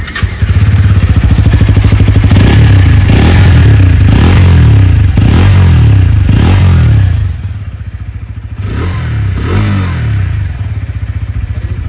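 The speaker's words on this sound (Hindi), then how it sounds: "आइए अभी सुन लेते हैं इस बाइक की एग्जॉस्ट नोट" A 2026 Bajaj Pulsar N160 SS motorcycle idles loudly and close by with a steady pulsing exhaust, then gets a series of repeated throttle blips that rise and fall before settling back to idle.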